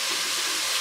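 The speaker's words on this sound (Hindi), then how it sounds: "स्लो आंच पर आप इसको फ्राई करें 3 से 4 मिनट के लिए" Chicken frying in a pan over low heat gives a steady, even sizzling hiss that holds unbroken through the short stretch, moderately loud with no voices.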